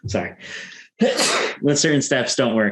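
A man sneezes sharply once during an online interview, then talking resumes right after it.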